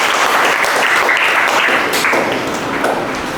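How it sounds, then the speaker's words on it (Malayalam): Audience applause at a talk on the Illuminati, a dense, steady wash of many hands clapping that stays loud throughout and eases slightly toward the end. "എല്ലാവരും ഒരു ക്ലാപ്പ് കൊടുക്കുക"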